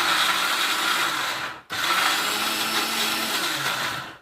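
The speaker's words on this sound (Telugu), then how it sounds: "ఇలా అన్నీ అందులో వేసేసుకొని మిక్సీ పట్టుకుంటాం. ఇప్పుడు ఇలా మిక్సీ చేసుకుంటాం" A mixer grinder whirs loudly in two bursts, grinding ingredients to a paste, a brief pause between them, the blades churning steadily until it winds down.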